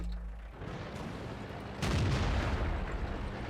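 In World of Tanks, a tank cannon fires one loud, close blast partway through, leaving a rumbling tail over a quieter engine-like drone before it.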